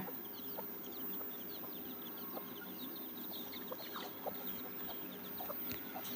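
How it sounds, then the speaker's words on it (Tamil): A country hen calls her chicks with repeated soft clucks in an outdoor grove, a continuous faint farmyard chatter of clucking and peeping with distant ambient hum. "எப்படி கூப்பிடுதுன்னு பாருங்களேன் அந்த குஞ்சுகளை"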